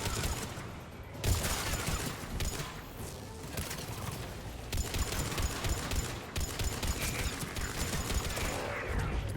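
Rapid gunfire crackles almost without pause while zombies are shot in Mass Effect 3, dense and fairly loud over a busy battle backdrop, with a few louder bangs breaking through.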